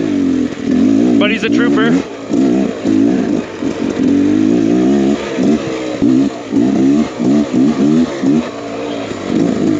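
A 2023 Beta X Trainer 300 two-stroke dirt bike engine revs and warbles on an off-road ride, loud and close with rising and falling throttle, under someone talking.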